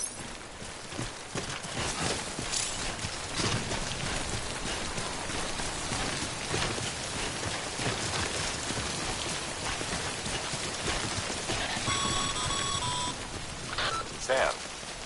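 Timefall rain in the video game Death Stranding: a dense, continuous patter of rain on surfaces, loud and even across the whole stretch, with faint electronic beeps near the end.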